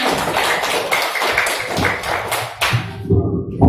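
Applause from a class of students, a short burst of fairly close, busy clapping with taps and thuds that cuts off near the end.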